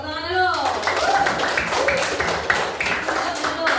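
Children in an elementary school classroom clap together, a dense burst of many small hands that fades into scattered claps, with young voices and an adult talking over it.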